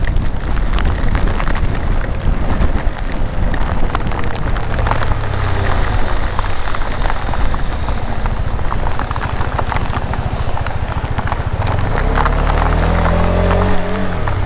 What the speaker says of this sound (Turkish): Oha yağmur var.